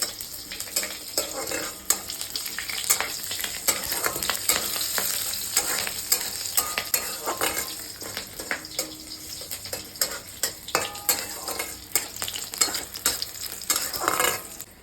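Cumin, bay leaf and green chilli crackle and sizzle in hot oil, close and steady, with frequent scraping taps of a spatula against the pan throughout and no speech.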